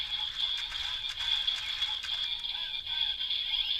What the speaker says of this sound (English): whenever you start cranking, this thing will start moving